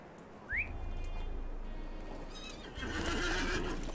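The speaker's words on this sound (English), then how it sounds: "I'll take a horsey." A horse in the video game The Lord of the Rings Online gives a short, rising whinny, followed by steady clip-clop hooves under a constant ambient wash, with a fuller swell of background sound near the end.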